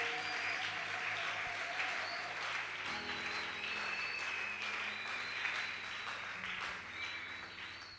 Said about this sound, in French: Nous acclamons Jésus.